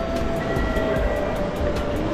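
A train runs on rails near Nagoya, Japan, making a loud, steady rumble with a sustained tonal whine and faint regular clicks. It sounds close, as if heard from on board, with no talk.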